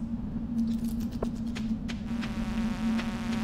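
Flies buzz constantly in the video game Stardew Valley, a loud steady droning hum with scattered ticking and tapping hits over it.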